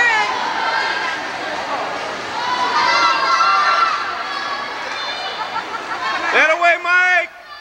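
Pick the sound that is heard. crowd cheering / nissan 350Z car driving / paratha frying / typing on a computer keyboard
crowd cheering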